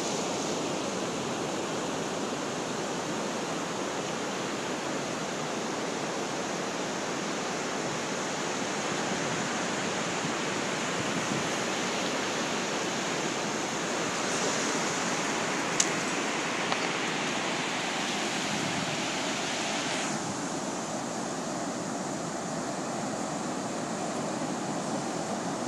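Ocean waves on a Florida beach wash in a steady, broad roar of surf that fills the whole stretch, constant and close with no voices over it.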